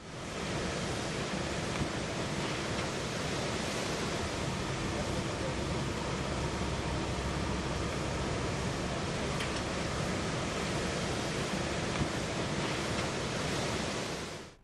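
Sea waves wash steadily against a shoreline where a breakwater is being built, a continuous loud roar of surf with no distinct breaks between waves.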